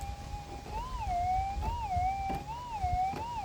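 A gold-hunting metal detector gives a steady, wavering tone over a target buried in hard-packed gravel. The warbling pitch rises and falls slowly over low background rumble and a few soft knocks.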